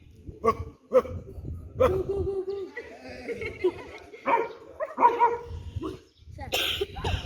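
A person mimics a dog, with a run of short barking yelps and whines, some voices mixed in nearby.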